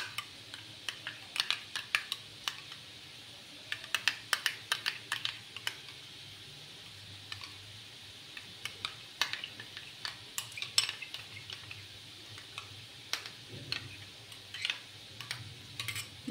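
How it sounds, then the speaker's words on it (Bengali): Two spoonfuls of yogurt are beaten with a spoon against a bowl, producing rapid bursts of light metallic clicks and taps that come in irregular runs with short pauses, close and fairly quiet, with no talking. "দইটাকে ভালোভাবে ফেটিয়ে নেব।"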